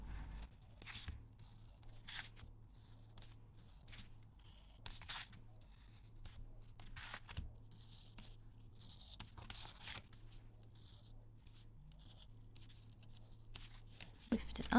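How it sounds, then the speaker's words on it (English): Craft knife slicing star shapes out of paper for a Waldorf paper lantern, a run of short, faint scratching cuts and rustles close by, over a low steady hum. "I'm going to use my craft knife to cut out these stars"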